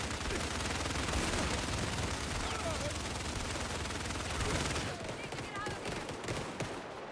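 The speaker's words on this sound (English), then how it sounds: "Yep, that's a machine gun, alright." Rapid machine gun fire rattles loudly and continuously in the action-adventure game Indiana Jones and the Great Circle, then cuts off, leaving scattered single shots and lighter clicks.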